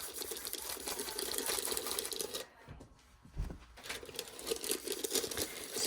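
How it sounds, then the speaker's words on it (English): Wax paper wrapped around a glass jar is burnished by hand, giving a soft, continuous scratchy rubbing that pauses briefly midway, then resumes, quiet and close. "wrap my entire jar in my wax paper. And then I am going to start burnishing it."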